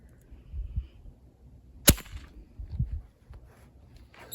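A single sharp gunshot from a .44-40 gallery load of 3 grains of Trail Boss powder behind a 240 grain bullet, a brief soft crack standing out against faint background rustle and low thumps outdoors.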